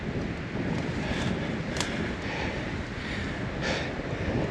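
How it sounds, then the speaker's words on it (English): Wind gusts across the slopes of Mt Lindesay in Queensland, a steady broadband rush and buffeting on the microphone with faint brief hisses rising through it, alone and without voices. "this wind that's picked up now"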